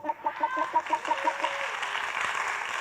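A boy gives a vocal rooster imitation with a rapid run of clucking, pulsed notes that ends in a drawn-out, crowing-like cry. It sounds close and fairly loud against a noisy, crowd-like background.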